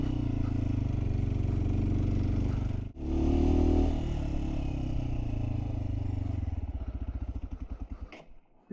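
A motorcycle engine labours up a steep mountain track in Skardu's Rganostor Valley, a loud close drone with a brief cut-out, rattling over rough ground before settling into a slow, pulsing idle.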